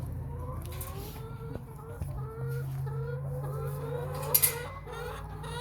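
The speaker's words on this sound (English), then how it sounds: "I'm letting in another white chicken. Come on, Leghorn." Leghorn chickens cluck and murmur nearby in short repeated calls, with a few sharp knocks and a brief louder squawk toward the end.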